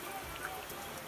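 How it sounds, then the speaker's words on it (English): Steady rain falls in Pico Turquino national park, Cuba, a dense even patter of drops with a few sharper splashes, heard alone with no voices. "it's been raining and raining and raining"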